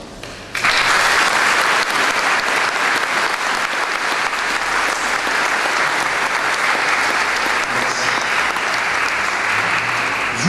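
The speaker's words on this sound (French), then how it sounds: "je vous demande de les applaudir, ainsi que notre architecte" Audience in a church at the inauguration of the renovated Église Saint-Gilles bursts into sustained applause, loud and steady from start to finish, with faint crowd murmur beneath.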